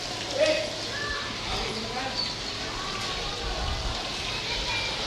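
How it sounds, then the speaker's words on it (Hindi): Heavy rain falls in a steady hiss over a rooftop, a dense constant wash with faint patters and a brief louder splash near the start, heard at moderate level without voices. "बारिश भी फुल हैवी हो रही है।"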